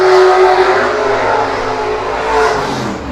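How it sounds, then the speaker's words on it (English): LS-powered BMW drift car at a drift championship practice, its engine revving loud and close in a continuous rising-and-falling roar. "I can hear them revving their engine as they enter the parking lot"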